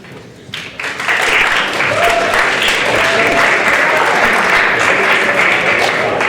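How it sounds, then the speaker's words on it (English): A conference crowd at a youth conference breaks into sustained, dense clapping after a short quiet moment, loud and steady with some voices mixed in. "I think we can do better for clapping."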